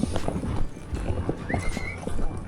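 Horses trot on a ranch while pushing cows back into a corral, their hooves making a steady, fairly close clip-clop with a few soft animal noises underneath.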